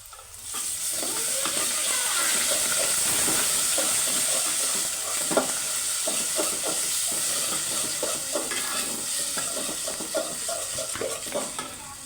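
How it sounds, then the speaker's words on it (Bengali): Ginger garlic paste frying with onions in hot oil, a dense steady sizzle broken by repeated scraping strokes of a spoon stirring the pan, close and alone without talk. "পেঁয়াজটা ভাজা হয়ে গেছে এখন আদা রসুন বাটা দিয়ে দিল"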